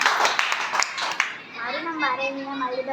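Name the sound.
children clapping to welcome at school Teachers' Day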